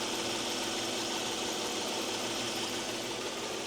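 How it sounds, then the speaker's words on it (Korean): A Hyundai Genesis BH luxury sedan with a large-displacement GDI engine idles with a smooth, even hum and faint mechanical ticking, steady and unchanging throughout. "엔진 소리도 굉장히 고르고 듣기 좋습니다"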